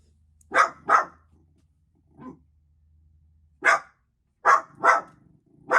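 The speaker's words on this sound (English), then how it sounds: "He will keep barking until the bin men have gone." A dog barks at passing bin men in sharp bursts, mostly pairs of loud close barks separated by silence, with one softer woof in between.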